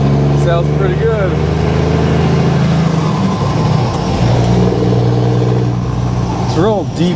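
A work truck's engine revs and rumbles with a deep, throaty low tone, close and loud, rising and falling, while people talk over it outdoors in strong wind.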